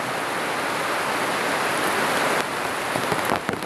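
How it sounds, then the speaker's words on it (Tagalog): Heavy rain pours steadily onto leaves in a forest, a dense, loud, continuous hiss that stays close and unbroken, with a few brief louder patters near the end. "Grabe tong ulan na ito."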